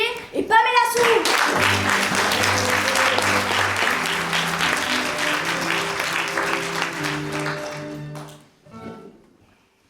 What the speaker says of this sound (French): je vous demande d'applaudir Mike, Dédé et Pamela Sue.